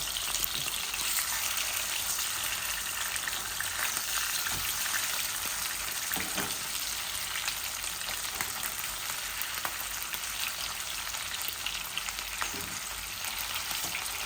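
Fish bhuna with tomatoes fries in a pan, a loud, steady hissing sizzle with dense crackle and occasional stirring scrapes, continuous and close throughout with no talking.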